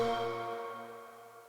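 A frozen reverb tail with its onset chopped off and faded in, sustaining as a steady tonal wash of layered pitches that slowly decays, heard alone without voices.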